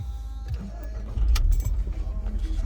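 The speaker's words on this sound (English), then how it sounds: "So, to do the roof, I turn the car on." A 2008 VW Beetle 1.6 Luna convertible engine cranks and catches, a near, loud rumble rising midway and settling into a steady idle, with a faint jingle of keys at the start.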